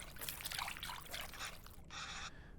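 Tamarind water pours and trickles in the cooking game Venba, a soft liquid splashing that goes on for nearly two seconds, followed by a brief, brighter pour, quiet and close with no talk.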